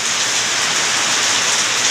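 Very heavy rain pours down steadily and loudly, a dense unbroken roar of drops hitting surfaces close by, with no voices over it.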